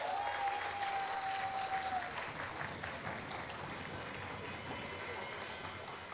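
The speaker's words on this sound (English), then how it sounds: "Let us give them all another round of applause." An audience at a parliamentary design competition awards ceremony applauds the winners: a sustained, even round of clapping that gradually softens, with a brief tone near the start.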